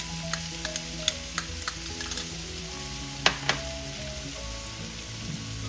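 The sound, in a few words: chili oil and ground pork sizzling while stirred for mapo tofu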